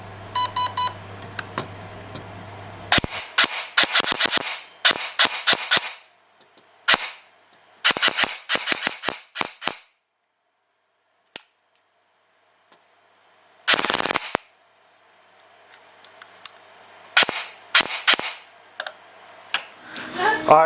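A G&G ARP9 airsoft gun fires close by in short automatic bursts and single shots, sharp rattling volleys broken by silent gaps, with a few electronic beeps at the start.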